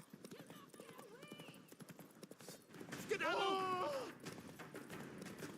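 Roach, a horse in The Witcher 3 video game, gallops with rapid rhythmic clip-clop hoofbeats, and a sharp neigh rises in the middle, all under short shouted exclamations from a man.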